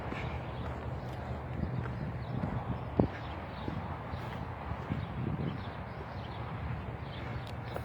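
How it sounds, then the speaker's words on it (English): Horses walking in an equestrian area along a hiking trail, hooves clip-clopping steadily at a moderate distance under a continuous outdoor wash, with one sharper knock partway through. "There's a number of horses that I walk by on this hike."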